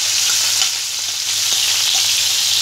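Half a batch of onions dropped into hot oil in a home kitchen pan after meat was browned, a steady loud sizzle and crackle filling the whole stretch with no talking.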